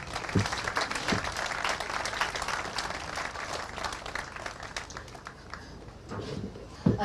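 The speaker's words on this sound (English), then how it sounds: "A round of applause for Wendy, please." Audience applause at a Ramadan evening event in Liverpool, greeting the Deputy Mayor as she comes up to speak: a dense, steady clapping crowd sustained for several seconds, fairly near, with a slight swell at the end.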